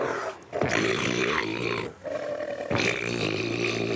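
A deep, drawn-out roaring bellow from a Steller sea lion bull in Alaska, repeated in three long bursts with short pauses, loud and close.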